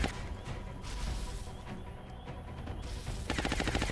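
Gunfire in XCOM: Enemy Unknown, a fairly faint, continuous rattle of rapid shots that grows into a sharper, more distinct burst toward the end.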